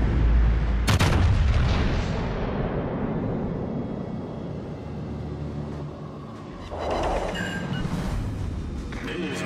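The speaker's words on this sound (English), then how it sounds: "Concentrate fire on that enemy warship." Warship gunfire in the World of Warships: Legends naval video game: a heavy cannon boom near the start, then sustained rumbling battle noise and further loud bursts near the end, with game voice lines.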